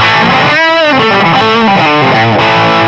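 An electric guitar played through a JYUGEHM STOMPS distortion pedal with boosted mids, giving a thick, boxy overdrive. A few loud, sustained distorted notes and chords ring alone.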